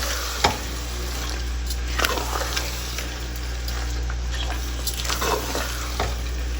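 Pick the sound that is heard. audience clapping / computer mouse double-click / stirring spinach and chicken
stirring spinach and chicken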